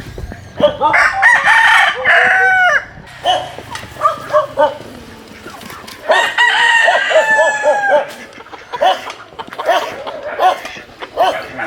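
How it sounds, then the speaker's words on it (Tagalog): Chickens cluck and call in bursts, with rooster-like crowing phrases rising among the flock, close and fairly loud outdoors. "Mga alaga po silang manok."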